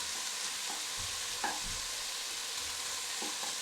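A pasta sauce preparation is stirred in a pan over low sizzling heat, a constant frying hiss with a few soft scrapes and knocks of the utensil.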